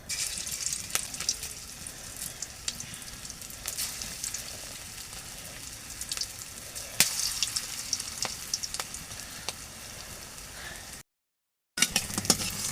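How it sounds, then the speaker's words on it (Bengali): Bora fritters frying in hot oil in a wok: a soft continuous sizzle with scattered sharp crackles and pops, close by, with a brief drop to silence near the end. "আমি এখন বড়া ভাজবো বড়া ভাজার জন্য কড়াইটা বসিয়ে দিছি কড়াইতে তেলও দিয়ে দিছি"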